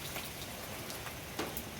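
Steady heavy rain from Cyclone Remal hisses continuously at a soft, even level, with scattered sharper drop impacts on nearby surfaces and no voices.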